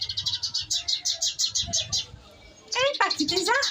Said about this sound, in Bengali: তিশা, ওই যে দেখেন একটা পাখি দেখছে ওই যে উপরে, আর এটা ধরার জন্য এখান থেকে লাফালাফি করতেছে